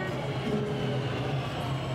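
Subway train rumbling steadily through an underground station, a continuous loud low drone that fills the space, with faint voices mixed in.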